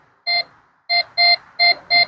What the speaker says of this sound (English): As I'm going over, you hear that beeping noise.